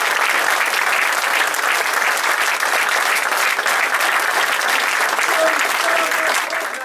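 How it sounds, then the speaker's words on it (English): A large crowd at a 2013 awards evening applauds the players, a dense, continuous roar of clapping that holds steady for several seconds before easing slightly at the end. "the players deserve a massive round of applause for what they've achieved"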